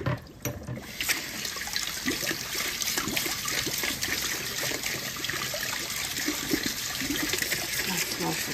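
A freshly picked backyard lemon scrubbed under a running kitchen tap, steady close splashing and trickling water with faint rubbing underneath, no talking.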